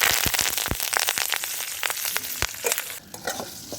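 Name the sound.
dried chili, mustard seeds and curry leaves frying in oil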